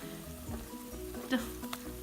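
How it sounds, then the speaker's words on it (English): Sopapilla dough squares frying in hot oil, a steady soft sizzle and crackle with brief bubbling pops, close by with faint background voices. "carefully place squares in hot oil, frying very few"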